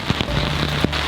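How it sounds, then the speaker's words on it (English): Steady rain patters on the roof of a parked campervan, a dense close hiss with a few louder drips and taps, no voices. "Hopefully next time you see me it won't be raining."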